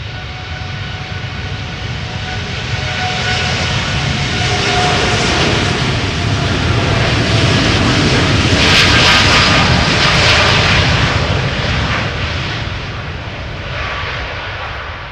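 A TUI airliner at Amsterdam Schiphol's Polderbaan runway spools its jet engines up for takeoff. The loud, continuous roar swells through the middle of the clip and then eases off slightly, with no voices over it.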